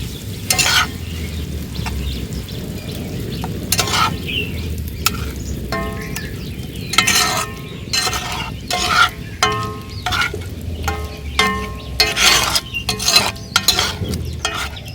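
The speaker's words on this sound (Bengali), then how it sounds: "এবার বেটে রাখা ধনেপাতাটা দিয়ে মিশিয়ে নেব।" Coriander paste is stirred into pickle in an iron frying pan: repeated sharp scraping strokes of a utensil against the metal come in an irregular rhythm over a soft, continuous sizzle.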